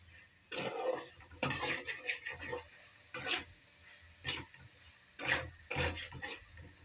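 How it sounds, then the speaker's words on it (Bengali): A utensil stirs and scrapes food in a pan after water is added, making irregular bursts of scraping and clinking over a faint background hiss. "সামান্য একটু জল দিয়ে দিই, নাইলে লেগে লেগে গেছে, ছেড়ে যাবে এটা।"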